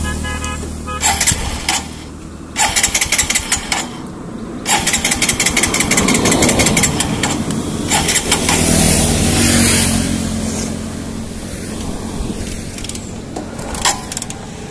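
A motorbike's starter cranks in repeated rattling bursts but the engine never catches, loud and close, with pauses between attempts and people talking nearby.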